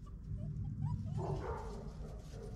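Giant Schnauzer puppies yipping and whimpering softly, high little cries over a low rumbling background, fairly faint.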